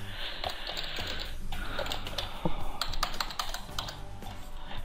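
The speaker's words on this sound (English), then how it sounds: "and type in an address" Fingers tap rapidly on a computer keyboard, a close, fairly quiet flurry of irregular clicks with brief pauses while entering an address.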